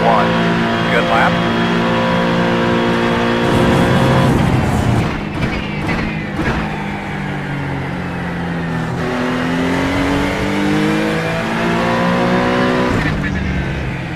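A GT3 race car in the iRacing sim at Mugello, its engine revving loud and close through rising and falling gear shifts, with a few tyre-squeal moments, while a voice talks over the engine note.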